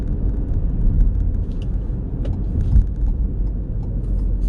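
A 2020 Ford Escape SEL with a 2-liter turbo engine drives along, a steady low cabin rumble of engine and road noise with no talk.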